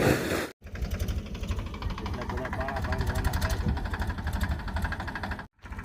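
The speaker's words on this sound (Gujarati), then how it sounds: "આખામાં ટ્રેક્ટર હંકાય છે" A tractor engine runs steadily in a farm field during sowing, a close, continuous mechanical drone with rhythmic chugging that holds for several seconds before cutting out briefly at the start and end, with voices speaking over it.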